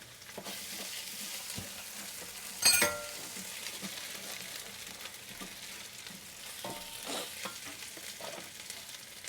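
Onions fry in a pan as garlic and ginger are added, a soft continuous sizzle with a brief louder crackle burst early on and occasional faint stirring scrapes, fairly quiet overall.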